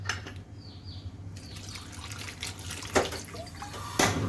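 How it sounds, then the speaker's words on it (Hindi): Water is poured into a pan holding tomatoes and garlic in a home kitchen, with a soft splashing trickle and a few louder splashes, close and without talking. "साथ में डाल दूंगी इसमें पानी"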